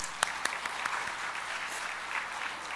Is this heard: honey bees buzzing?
no